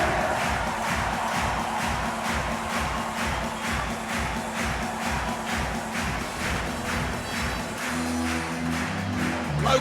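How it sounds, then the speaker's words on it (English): Local crowd roaring and cheering at a beach volleyball world championship match in Vienna, a dense, sustained wall of crowd noise with rhythmic clapping or chanting pulses throughout. "Local crowd here are going wild with delight."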